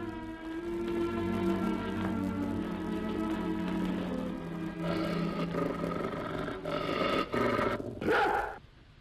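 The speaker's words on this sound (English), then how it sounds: "Did you just hear a dog growl?" A dog growling in an old television sitcom scene, a low, sustained rumbling snarl rising and falling over several seconds, fairly close, ending with a few sharp bursts.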